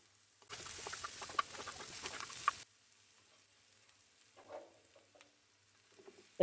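Eggs hit a pan of hot spiced oil with cumin, coriander powder and ginger, giving a loud two-second sizzling burst that stops abruptly, followed by faint stirring scrapes in near silence.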